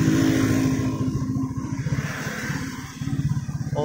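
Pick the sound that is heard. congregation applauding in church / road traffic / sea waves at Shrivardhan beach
road traffic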